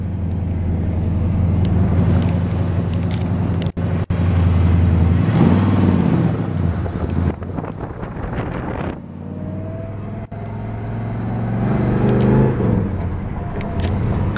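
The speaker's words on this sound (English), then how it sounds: "Car shifts great." A 1971 Chevrolet Chevelle SS with a 454 V8 and four-speed manual is heard from inside while driving, with loud continuous engine drone, rising revs, gear-change dips and wind noise throughout.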